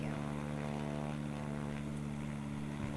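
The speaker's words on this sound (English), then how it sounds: "Why are these planes so slow?" Steady, droning hum of propeller airplanes in flight in the Roblox Vehicle Simulator game, a continuous engine tone with no breaks and no voices over it.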